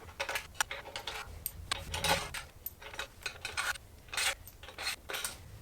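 Anchor fasteners are slipped one after another into the slot of aluminum 80/20 framing for van cabinets, producing a close series of short metallic scrapes and clicks in an uneven rhythm.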